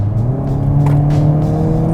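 A 2022 Hyundai Kona N hot hatch SUV accelerates hard, its engine and exhaust droning loud and steady as the pitch climbs smoothly, heard close from inside the car with no talk.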